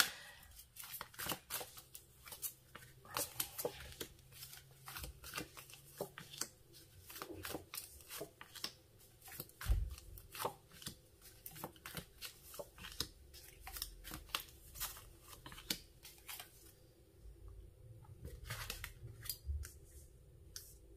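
Tarot cards are shuffled and drawn in a series of quick, crisp snaps and riffles, faint and close, irregular bursts over a quiet room with no talking.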